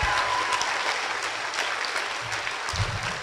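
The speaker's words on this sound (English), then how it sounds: "let's give these young ladies one more round of applause" An audience at a middle school chorus Christmas concert claps steadily, a dense patter of many hands heard from within the crowd throughout.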